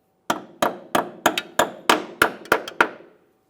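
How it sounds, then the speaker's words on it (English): A small hammer taps a brake flex hose clip into its bracket on a 2008-2017 Mitsubishi Lancer, giving nine sharp metallic taps in a quick, slightly uneven rhythm, close and clear with no talking. "you may need to lightly tap it in using a small hammer"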